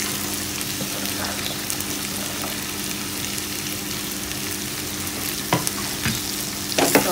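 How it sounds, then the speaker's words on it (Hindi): Long beans frying in a pan with potatoes, a steady dense sizzle close by, with occasional brief clicks and scrapes of a spoon stirring toward the end, no talking. "इसको हम अच्छे से मिक्स कर लेते हैं।"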